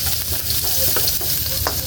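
Garlic sizzles and crackles steadily in hot oil in a pan, close by, with occasional stirring scrapes over the constant frying hiss.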